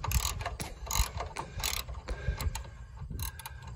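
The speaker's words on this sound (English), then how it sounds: "Okay, 3/8 extension on a ratchet." A ratchet on a 3/8 extension loosens an oil drain plug on a Yardworks 420cc engine, giving a rapid series of close, sharp clicking strokes in uneven bursts.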